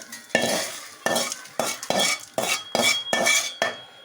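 Ingredients are stir-fried in a pan for puliyodharai rice with about seven distinct, rhythmic scraping strokes, each a sharp, close burst of sizzle and utensil scrape, heard alone.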